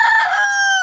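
A rooster crows in one sustained, loud, close call lasting nearly a second, with chickens around it in a backyard coop.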